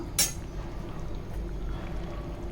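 Tamarind water pours steadily and softly into a pan, preceded by a brief clink at the start.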